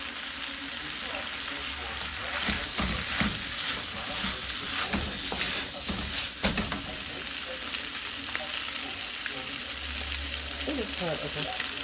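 Sesame oil sizzling in a big pot while cooking a chicken and shrimp stir-fry, a continuous dense frying hiss with scattered stirring knocks throughout and a voice faintly present beneath.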